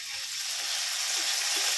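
Onion and garlic browning with tomato in a pan at an outdoor kitchen, giving a steady, fairly loud hiss of frying with faint crackles and no voices.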